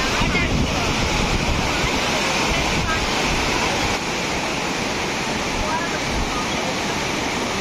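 Steady, loud rush of the Courtallam waterfall filling the whole clip, a continuous broadband roar with no breaks.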